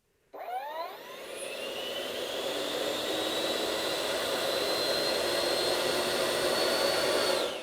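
An FMS F-16 64mm EDF model jet spools up at half throttle, its ducted fan rising in pitch then settling into a steady, loud high-pitched whine and rush of air, close by with no talk.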